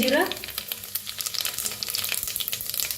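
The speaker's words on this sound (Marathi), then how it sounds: "तेल तूप बघा चांगलं तापलेलं आहे, त्याच्यात टाकूया 1 चमचा मोहरी चांगली तडतडू द्या।" A spoonful of mustard seeds crackles and spits loudly and continuously in hot ghee and oil for masale bhaat, a dense close-up sizzle with no talking.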